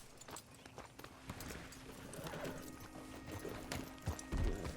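Horse hooves clip-clop in Red Dead Redemption 2 over a wagon-trail ambience, with a steady run of soft irregular footfalls, a few sharper knocks and a heavier thump near the end.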